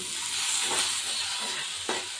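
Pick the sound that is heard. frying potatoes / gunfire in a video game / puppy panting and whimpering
frying potatoes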